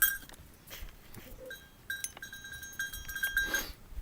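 Goats on a farm, heard as scattered faint bleats and clinks amid outdoor ambience, with a louder burst of activity near the end and no talking.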